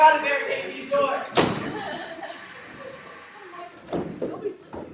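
Doors slam shut as they are barricaded in a staged short-film scene: one heavy slam followed by lighter thumps and knocks, mixed with agitated voices talking and shouting.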